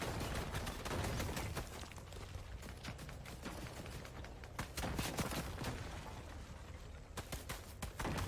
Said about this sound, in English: they are just spamming us with miniguns, SMGs, RPGs